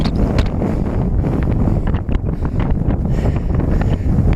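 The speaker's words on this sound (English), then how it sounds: "117 miles straight into a northwesterly wind," Strong northwesterly headwind hitting a cyclist on a long ride on a Koga World Traveller touring bike, producing loud, continuous buffeting wind roar against the microphone with gusty surges throughout.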